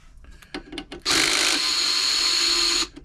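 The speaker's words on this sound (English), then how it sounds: "Use the electric screwdriver on these, get them out quicker." Electric screwdriver backing screws out of a Brother XL5012 sewing machine casing, a few short taps and handling knocks, then one steady whirring run of nearly two seconds, close and loud.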